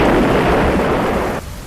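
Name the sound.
explosion sound effect as boulder shatters in audio story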